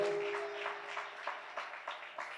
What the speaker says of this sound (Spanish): Dele un fuerte aplauso al que vive